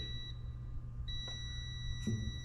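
A steady high electronic tone from a diagnostic tester runs throughout, with a faint second beep partway through over a low hum; testing a bad glow plug control module on a 2008 GM vehicle.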